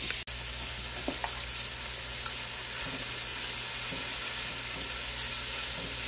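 Pork browning in a stew pot gives a steady, close, dense sizzle with occasional stirring scrapes, heard throughout with no voices.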